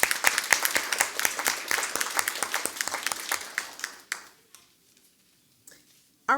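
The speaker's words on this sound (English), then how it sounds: "Let's give all of the students another round of applause" A school board meeting audience applauds the students, a dense burst of clapping lasting about four seconds before thinning to a few scattered claps and then near silence, with a brief voice at the very end.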